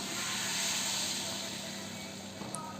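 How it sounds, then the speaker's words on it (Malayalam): Steady hiss of millet batter meeting a hot palappam pan, a soft continuous sizzle that holds evenly and fades slightly toward the end, with a tiny clink near the close. "ഞാനിവിടെ ഒരു പാലപ്പച്ചട്ടി ചൂടാക്കി വെച്ചിട്ടുണ്ട് ഇതിലേക്ക് ആവശ്യമുള്ള മില്ലറ്റ് മാവ് ഒഴിച്ചു കൊടുക്കാം"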